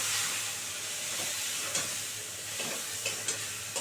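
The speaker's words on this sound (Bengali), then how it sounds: "মিক্সিতে পেস্ট করা মশলাটা দিয়ে দিচ্ছি দিয়ে এবার আমি না এটাকে খুব সুন্দর করে কষাবো" A spice paste ground in a mixer fries quietly in a pan for a fish curry. A low, steady sizzle carries a few light spatula taps and scrapes as it is stirred.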